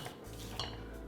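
A spatula scrapes around the sides of a mixing bowl of quick bread batter made with eggs, giving a steady, close scraping and light clinking with no voices.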